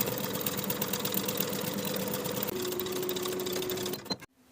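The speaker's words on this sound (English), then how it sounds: "Sew both side skirts to the front skirt with a 5/8 inch seam allowance from top to bottom" A sewing machine runs steadily, stitching the side seams of a dress skirt with a close, even mechanical whir that holds for several seconds before slowing and stopping.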